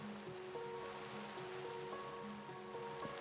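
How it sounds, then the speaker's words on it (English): Rain falls in Minecraft as a steady soft patter, with faint sustained tones drifting over it and no talking. "the ambience right now is quite nice with all the rain"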